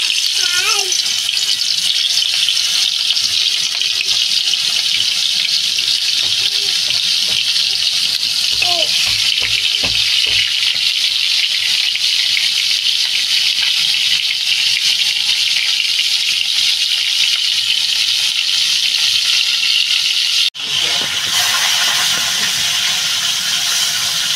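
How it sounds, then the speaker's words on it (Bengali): Snakehead (shol) fish frying in hot oil for a bottle gourd curry, giving a loud, steady, broadband sizzle that runs unbroken for the whole stretch, with a brief dip near the end. "আমি মাছটা দিয়ে দেবো, তেলটা গরম হয়ে গেছে।"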